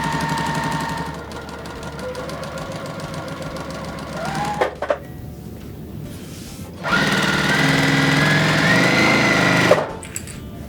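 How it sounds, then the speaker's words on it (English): A sewing machine stitches quilt strips in two sustained runs of fast, rattling mechanical whirring, separated by a short quiet pause with faint handling noises. "I'm gonna sew these on."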